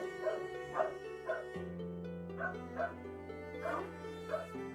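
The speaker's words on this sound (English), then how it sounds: "The dogs will not stop barking." Several dogs bark repeatedly in short bursts over a sustained musical tone, the barks fairly close and recurring every half second or so.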